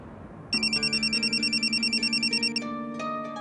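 A telephone in a home scene of a Hindi family drama rings with a bright, rapidly pulsing electronic tone for about two seconds, then changes to a softer sustained tone. There is no talk over it.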